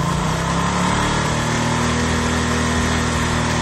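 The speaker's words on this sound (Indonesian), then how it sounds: "dan pada saat digas tinggi" Motorcycle with a charging system over-voltage fault, engine revved high and held steady, a close buzzing drone with no talking.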